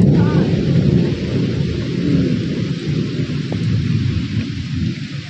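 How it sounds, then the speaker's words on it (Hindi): Heavy rain pours steadily with rolling thunder, a dense continuous roar close by that swells and eases slightly throughout. "देखुन केतेरी से वर्षा"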